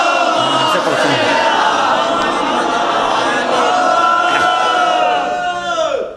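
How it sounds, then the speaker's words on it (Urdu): A large crowd at the Dargah Hazrat Abbas in Lucknow on Yaum-e-Abbas loudly chanting salawat in unison, a dense roaring chorus of voices that holds strong for several seconds before fading at the close. "ہلوری حضرات بہت باواز بلند نعرے صلوات پڑھتے ہیں"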